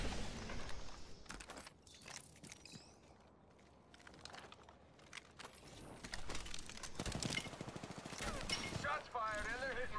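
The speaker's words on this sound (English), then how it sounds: "Shots fired and they're hitting me." Apex Legends firefight with rapid bursts of automatic gunfire and sharp cracks, loud and close at intervals, mixed with game effects and occasional keyboard clicks, while a voice talks over parts of it.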